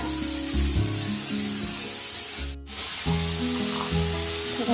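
Fresh grated coconut roasting in a pan with browning onion for a spicy chicken curry, a loud, steady sizzle and hiss that briefly drops out before resuming, heard up close over a faint tonal background.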